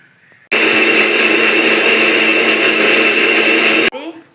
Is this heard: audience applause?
no